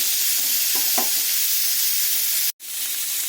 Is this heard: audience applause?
no